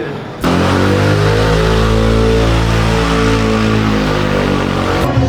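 Motorcycles ridden by women pass close in a Colombian street, engines loud and steady with a rising drone that holds for several seconds before cutting off abruptly.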